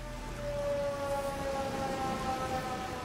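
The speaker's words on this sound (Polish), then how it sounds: "Od razu włączyliśmy syreny." Sustained wailing flood warning sirens in Venice during a high tide, steady tones, loud and continuous, sounding over a low rumble, with no voices.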